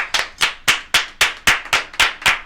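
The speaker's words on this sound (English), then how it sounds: "Let's clap it up for that." Sharp, evenly spaced claps ring out at a bar show, about nine crisp hits in a quick regular rhythm, close and loud with no talking.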